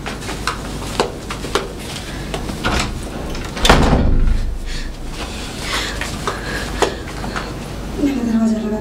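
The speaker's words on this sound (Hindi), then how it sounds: "मैंने दरवाजा लगा दिया।" A wooden house door is pushed shut, with a distinct slam near the middle amid scattered knocks and rattles, while someone speaks over it in a dramatized scene.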